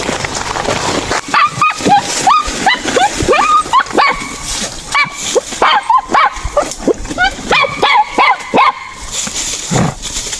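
A dog in a forest yips and barks repeatedly in short bursts, some whimpering and high-pitched, close and loud with uneven rhythm over roughly ten seconds.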